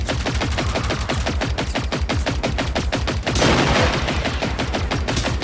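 Machine gun fire in the video game Generation Zero: rapid, sustained automatic bursts, loud and close, rattling almost without pause.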